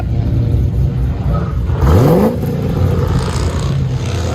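A cammed Pontiac GTO with a 6.0L V8 and Borla dual exhaust, with a broken exhaust hanger, idles with a lumpy, choppy burble. It gets one sharp rev that rises and falls around the middle, heard close by.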